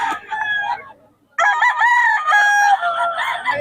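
Chickens crow at a market stall in Bocaue. One loud, close crow is followed by a brief silence, then a second long, strained crow with clucking mixed in.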